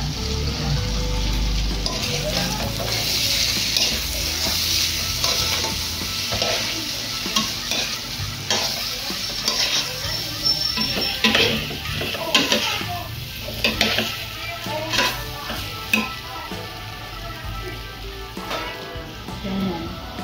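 Gulasch being stirred in a hot sizzling pan, caldereta style with tomato sauce to come: steady frying hiss with repeated scraping and clinks of a spoon against the pan, close and continuous, no talking.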